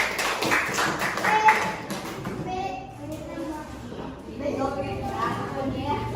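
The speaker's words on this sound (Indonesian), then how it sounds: "pas sekali kita berikan aplaus" Classroom applause during an Indonesian elementary school social studies microteaching lesson: a burst of broadband clapping fills roughly the first two seconds, then children's and adults' voices talk over a quieter room.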